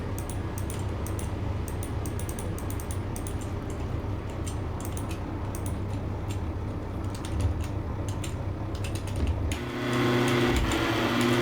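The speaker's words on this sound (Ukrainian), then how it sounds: "Не глушиться двигун" A Mercedes engine that will not switch off runs on in a steady, continuous mechanical drone with faint ticking on top, then grows slightly louder and rougher near the end.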